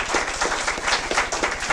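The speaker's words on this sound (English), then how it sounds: "Let's give a big round of applause because I think it's great." An audience applauds at the close of a talk about the discovery of Ishi, a steady wash of many hands clapping together at moderate loudness with no voices over it.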